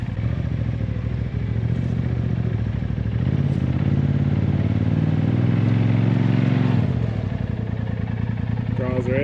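A 2020 Polaris RZR Turbo S fitted with gear reduction crawls slowly up onto a tire. The engine rumbles steadily nearby, swells briefly under load midway, then eases off, with a voice over it near the end.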